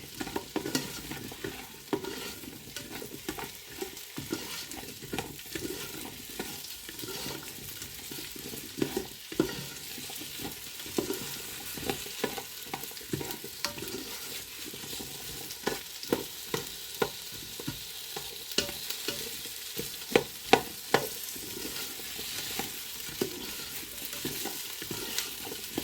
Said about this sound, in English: we're just going to move them around, keep them moving so that they don't catch.